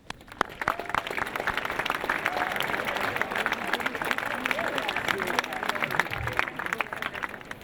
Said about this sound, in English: a round of applause for your parents and your neighbors